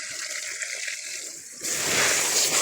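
Water bursts out under pressure from a leaking pipe being repaired with bamboo: a faint hiss and trickle at first, then a sudden loud, close gushing spray that continues strongly.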